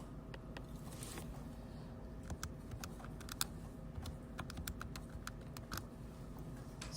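Numbers are typed on a keyboard: quiet, irregular tapping keystrokes in a soft steady background hum, with no voices.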